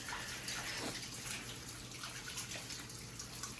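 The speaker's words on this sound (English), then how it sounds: "let me give them a quick little rinse" Running tap water in a kitchen sink as hands are rinsed before making a no-bake keto cheesecake, a steady, faint, continuous splashing rush with no talking.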